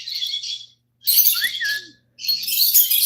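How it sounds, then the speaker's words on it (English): Birds outdoors call close by in three harsh, raspy bursts separated by short silences, with a thin whistled note in the middle one. "listen to the birds start going"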